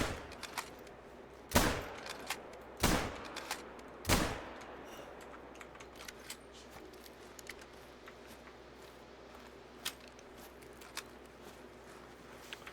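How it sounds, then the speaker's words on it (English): .243 rifle shots fired at an animal in the hunting video game Hunter Call of the Wild, three sharp loud cracks in quick succession followed by faint clicks and quiet outdoor ambience. "I'm going to have to shoot it at least 4 to 5 different times."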